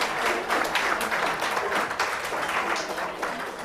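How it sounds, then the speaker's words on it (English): Sustained applause from a conference audience at a plenary session, dense steady clapping filling the space without a break, no voices standing out. "A huge round of applause for all the participants again."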